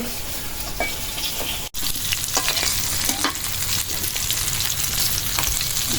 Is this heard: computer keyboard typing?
no